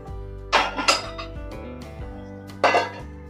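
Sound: lid being put on a cooking pot

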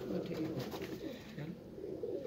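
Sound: pigeons cooing

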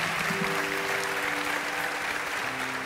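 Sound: studio audience applause

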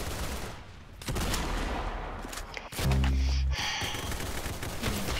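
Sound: Desert Eagle pistol gunfire in Roblox Arsenal video game

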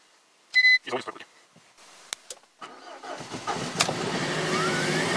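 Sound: car engine cold starting

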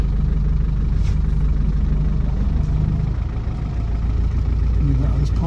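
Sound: Land Rover Defender 90 300TDi diesel engine running

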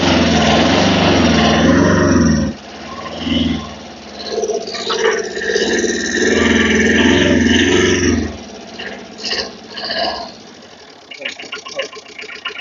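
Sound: Tata Magic mini truck engine running

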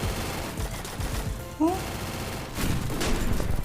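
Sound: gunfire in the video game Free Fire

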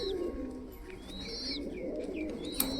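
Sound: pigeons cooing

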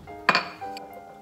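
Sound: grabbing a tablespoon among dishes

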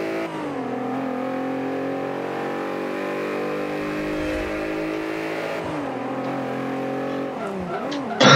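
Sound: racing car engines in the video game Forza Motorsport 5

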